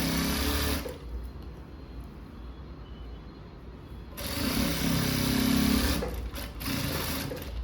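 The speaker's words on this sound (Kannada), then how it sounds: "2 ಭಾಗ ಫೋಲ್ಡ್ ಮಾಡಿ ಸ್ಟಿಚ್ ಮಾಡ್ಕೊಂಬರೋಣ ನಿಧಾನಕ್ಕೆ" A sewing machine slowly stitches folded blouse fabric, a loud close motor hum and rapid needle clatter in two runs separated by a quieter pause, with a brief stop near the end.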